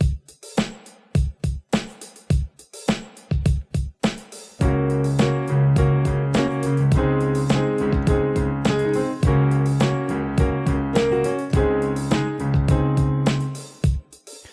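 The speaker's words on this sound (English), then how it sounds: "usually this is via a drum loop on the keyboard" R&B-style drum loop at 104 beats per minute from a keyboard: sparse, punchy drum hits open the passage, then a fuller groove with sustained tonal layers carries on steadily before stopping, with no voices.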